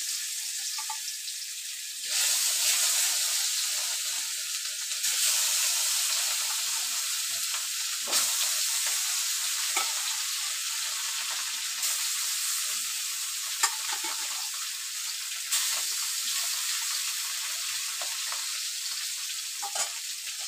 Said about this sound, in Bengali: কড়াইয়া তেল গরম হতে মাছ দিয়ে দিলাম।